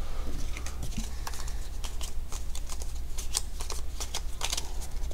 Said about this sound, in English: You then shuffle your coordinate cards.